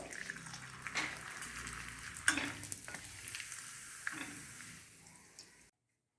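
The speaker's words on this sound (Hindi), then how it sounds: "हम पापड़ भूनेंगे" Black pepper potato papad roasting in a hot pan gives a continuous crackling fry with light scrapes and ticks, fairly faint and close, then fades and stops into silence.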